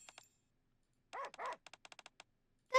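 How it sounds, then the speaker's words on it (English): Puppy barking in the game Goddess of Vi: two short yips, then two longer whining barks and a rapid run of about eight quick, sharp yaps, heard alone. "The puppy's calling us!"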